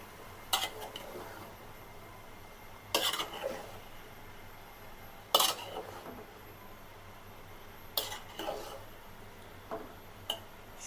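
Vegetables and greens are stirred with spices in a pan, with a run of separate clattering scrapes against metal spaced a few seconds apart and faint sizzling underneath.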